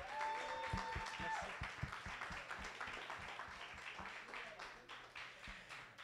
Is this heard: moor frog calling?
no